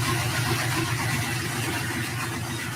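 A car with 2.5-inch Dynamax headers, high-flow cats and Stinger mufflers idles in a steady, low, throbbing rumble, held close and continuous without any revving.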